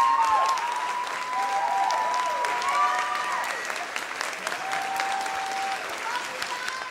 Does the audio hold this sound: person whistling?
no